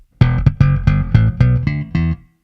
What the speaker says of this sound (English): If I play a simple slap-only line